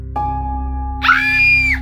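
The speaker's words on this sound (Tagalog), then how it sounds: "Sumigaw ako ng malakas para manghingi ng tulong" A woman's loud, sustained high-pitched scream cries out for help as a horror-story sound effect, rising abruptly and lasting nearly a second over a steady low hum.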